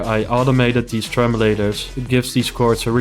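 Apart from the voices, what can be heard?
No everyday noise stands out behind the speech.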